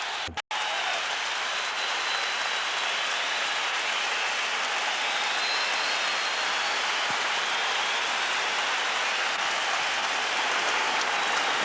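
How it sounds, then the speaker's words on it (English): Large stadium crowd at Ibrox roaring and cheering continuously as Rangers and Auxerre walk out for a Champions League match, a dense, steady wash of noise with no gaps. "Ibrox not quite full to capacity tonight, but nonetheless a big crowd here"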